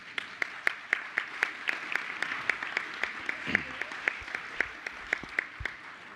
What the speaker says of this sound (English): Can we hear another round of applause for our incredibly talented student?